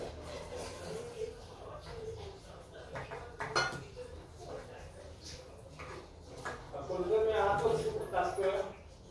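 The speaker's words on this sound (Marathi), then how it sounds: "तर आता मी इकडे नाश्त्यासाठी थालीपीठ करते। सगळं टिंबून घेते पहिला।" In a home kitchen, ingredients for thalipeeth are mixed in a bowl, with soft scraping, clinks of utensils against dishes and an occasional clatter, while someone talks over the work.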